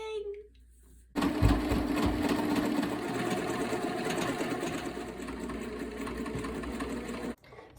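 A sewing machine stitching with one thread colour on top and another in the bobbin runs in a steady, continuous whir for several seconds, starting abruptly after a brief quiet moment and stopping sharply near the end.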